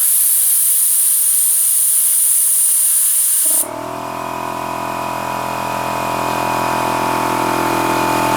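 A loud, bright hiss of air rushing out of an Einhell TC(H)-AC 190/6/8 OF oil-free air compressor stops sharply, and the compressor's motor then starts and runs with a steady humming drone.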